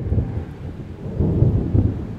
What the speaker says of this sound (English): As the first sprinkles of rain splashed onto the ground, the people knew they were doomed.